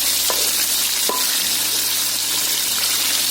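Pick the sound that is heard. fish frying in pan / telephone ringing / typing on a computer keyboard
fish frying in pan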